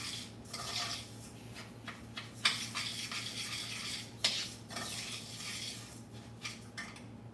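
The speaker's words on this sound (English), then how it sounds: "So as we're sauteing that" Food sautéing in a pan while making roast pork tenderloin with ginger glaze: a steady low sizzle runs throughout, broken by scraping and clinking of a utensil against the pan, with louder knocks near the three- and four-second marks.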